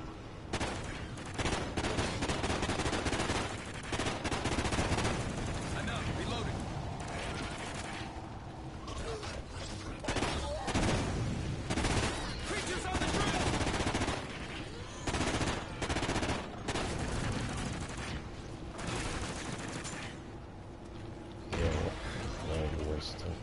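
Rapid bursts of gunfire from a shooting video game crackle through most of the stretch, dense and loud, with occasional mechanical clicks mixed in.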